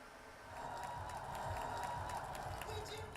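A crowd of protesters gathered outside Westminster Hall in London gives off a steady, dense murmur of many voices at a distance, swelling after a quiet start and holding level throughout.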